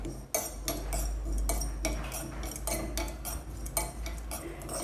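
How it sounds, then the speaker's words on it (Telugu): Coriander seeds, cumin and cloves dry roasting in a hot pan, close and steady, with repeated clinks and scrapes of a spoon or utensil against the metal as the spices are stirred. "2 స్పూన్ల ధనియాలు, 1 స్పూన్ జీలకర్ర, 8 లవంగ మొగ్గలను వేసుకుని వీటిని కాసేపు డ్రైగా వేయించుకోవాలి"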